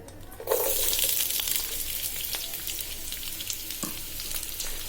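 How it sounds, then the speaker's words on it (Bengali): Chopped onion, garlic and green chillies hit hot oil in a kadai with a sudden loud sizzle, then keep crackling and spitting steadily up close. "এবার কেটে রাখা পেঁয়াজ রসুন কাঁচামরিচ দিয়ে দিচ্ছি"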